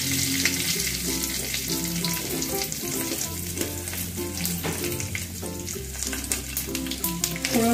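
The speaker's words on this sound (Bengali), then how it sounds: "এবার আমি একটা তেজপাতা ফোড়ন দিচ্ছি আর দিচ্ছি একটু সাদা জিরে ফোড়ন।" Bay leaf and cumin seeds sizzle steadily in hot oil in a pan, with a constant loud crackle and occasional stirring scrapes and clinks.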